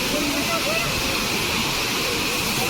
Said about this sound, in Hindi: दिवाकर डॉक्टर साहब को इस झरने का फुल आनंद ले रहे हैं।